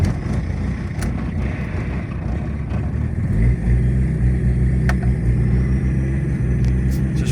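A diesel VW Passat B3 engine fires from cold and settles into a steady, loud low rumble, idling continuously with a deep throbbing hum and no voices.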